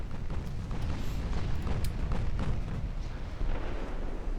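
Warship guns firing at the Grafton in a naval video game, a rapid barrage of overlapping booms and sharp bursts over a constant rumbling, loud and sustained throughout.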